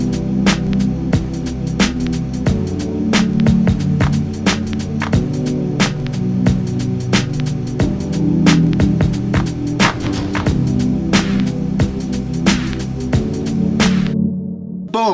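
A looped chord progression from the Unison Midi Wizard plugin plays over a punchy drum loop with crisp hits and a steady groove, full and loud, ending abruptly.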